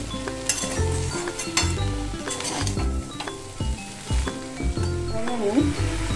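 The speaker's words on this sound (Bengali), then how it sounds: "এবারে ভালো করে সুন্দর করে আবারও আমি একটু নেড়ে দেব" Amudi fish with spices stirred in a frying pan for chorchori: a steady sizzle broken by repeated scraping stirs and light clinks, with musical tones running underneath throughout.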